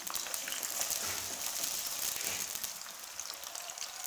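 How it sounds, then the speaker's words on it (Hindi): Onions fry in ghee in a pan, a steady, soft, even sizzle with a faint crackle throughout and no voices. "प्याज जो है ना हम इनको गोल्डन ब्राउन होने तक फ्राई कर लेते हैं"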